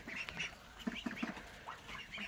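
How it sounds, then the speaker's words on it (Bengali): A flock of fifteen Peking ducks, about forty days old and raised for meat, quacks faintly at a distance, with a few short nasal calls in quick succession among quieter chatter. "এখানে 15টা হাঁস আছে"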